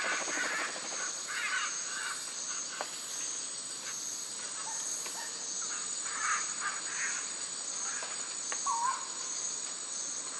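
Wild macaws in a Costa Rican forest give scattered harsh squawks and calls at a distance, set against a steady, dense chorus of crickets and insects with occasional faint bird notes.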